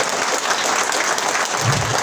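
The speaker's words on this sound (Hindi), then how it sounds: "मैं चाहूंगा उसके लिए एक बार जोरदार तालियां होनी चाहिए, मिस्टर रमेश रायकवार जी के लिए।" A large audience breaks into loud, steady applause that holds dense and even for the full couple of seconds, with no voice over it.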